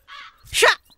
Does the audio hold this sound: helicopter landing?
no